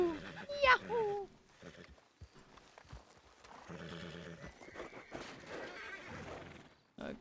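Horse in a Western roleplay video game whinnies loudly near the start, followed by clip-clopping hooves, with people talking over the rest.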